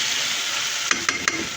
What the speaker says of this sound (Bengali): ভেন্ডি ভাজি হচ্ছে, এই যে চুলায় ভেন্ডি ভাজি দিছি